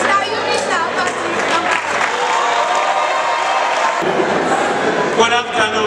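A university lecture audience claps to welcome a staff member to the podium, dense, steady applause mixed with crowd murmur and a voice speaking over it.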